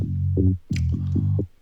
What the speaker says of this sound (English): only the low frequencies are ducked down